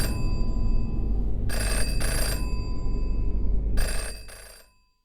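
An old-style telephone bell rings in Jenny LeClue, two loud clattering rings over a heavy low background rumble, and the sound fades away at the end.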